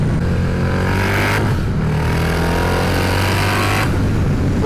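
Trask-turbocharged 203 hp CVO Harley-Davidson Road Glide ST engine revving hard, a loud, close, continuous roar that surges and changes pitch with throttle, with rushing wind noise during the ride.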